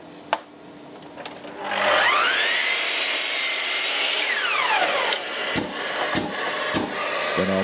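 A chop saw trims a scrap piece of timber: the motor spins up, the blade whines loudly through the wood with a rising then falling pitch, and the motor winds down, followed by a few clunks.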